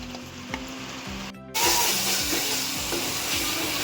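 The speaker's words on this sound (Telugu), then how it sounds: "టమాటాలు వేసుకున్న వాళ్ళే మంచిగా కలుపుకొని ఒక్క 2-3 నిమిషాలు మూత పెట్టుకోవాలి" Tomato pieces with turmeric fry in a pan for a dried prawn curry. A softer sizzle runs with rhythmic stirring strokes until a brief gap, then a loud, bright burst of frying continues, with no voices.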